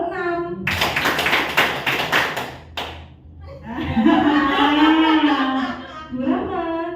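Teachers in a school training session clap a counted pattern in unison: a quick run of sharp claps, a pause, then a voice talks over faint background sound.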